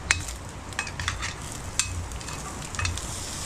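Vegetables sauté in a hot pan for a Filipino mung bean and vegetable dish, with a steady sizzle under repeated scraping and clinking stirring strokes from a utensil against the pan, close and continuous.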